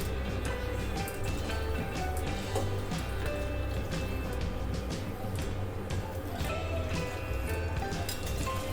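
Water is poured into a raw tender jackfruit curry in a pan on a gas stove, making a continuous splashing, gurgling pour close by with bubbling underneath.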